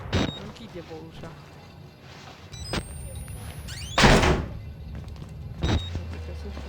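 A door slamming shut with a solid thunk in the horror video game Outlast, loud and brief amid game ambience, with people talking around it.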